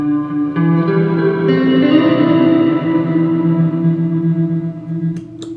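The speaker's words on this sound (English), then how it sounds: "I turn the bit crush up pretty high, and I turn the reverb down all the way. But you hear how it thins out." An electric guitar runs through a John Ghost ambient pedal with the bit crush set high and the reverb off. It plays sustained, thin, distorted chords and a short melodic line, close and loud, with no voice.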